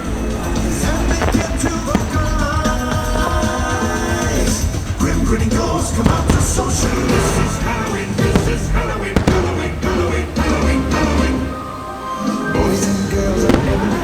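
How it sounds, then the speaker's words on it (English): Disneyland Halloween Screams fireworks show, loud rapid bursts and crackling booms layered over orchestral show music, sustained and close, with crowd noise mixed in. "Halloween Screams is an A+ fireworks show"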